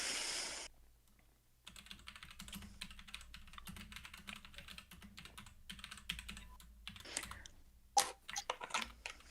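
A computer keyboard is typed on quietly and steadily, a soft continuous clatter of keystrokes after a brief pause, with a louder tap near the end and no speech.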